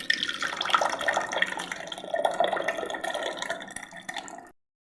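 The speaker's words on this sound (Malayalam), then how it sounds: "ജാറിലേക്ക് അങ്ങ് ഒഴിക്കാം" Cooked ragi mixture poured into a mixer jar makes a steady, fairly quiet liquid splashing and gurgling stream for several seconds before stopping abruptly.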